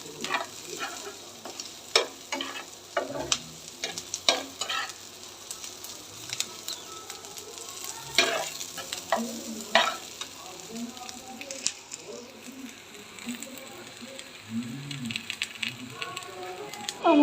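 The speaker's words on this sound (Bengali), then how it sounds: "আমার বরবটি ভাজা হয়ে গেছে, ওটা আমি নামাই নিয়েছি।" Yardlong beans sizzle in a pan and are stirred with repeated scraping and clinking. The steady frying hiss stays close, and a voice talks at times over it.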